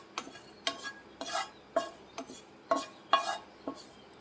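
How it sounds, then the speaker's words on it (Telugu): Curry leaves frying in a pan over very low heat, with a string of short scraping and clinking stirring strokes at an irregular rhythm, close up and fairly quiet, no voices. "ముందుగా కరివేపాకుని ఇలా ఫ్రై చేసుకోవాలి."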